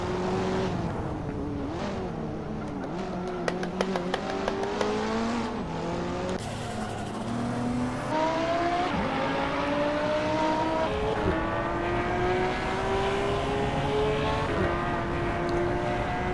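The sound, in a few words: cars racing in the Hot Wheels Unleashed video game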